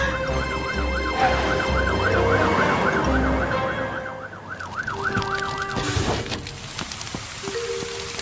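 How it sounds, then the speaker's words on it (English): Cartoon fire truck siren wailing loudly and steadily in a repeating up-and-down pattern, with rumbling engine noise underneath and a brief horn-like blast near the end; no talking. "They're brumming too loud to hear Fiona's siren."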